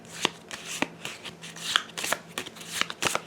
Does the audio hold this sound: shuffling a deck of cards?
yes